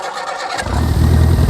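An 80s hot hatch pulled from a barn cranks briefly, then its engine catches and fires into a rising, rough roar, loud and close, with no talk.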